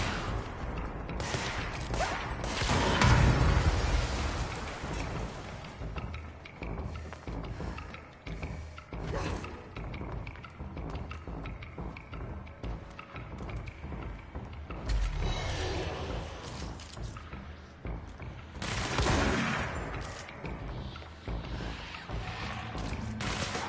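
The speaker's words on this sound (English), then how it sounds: "It's kind of shotgun." Shotgun fire and combat effects in the action game Control, dense and continuous with heavy booming bursts clustered around several moments over a constant layer of game noise and music.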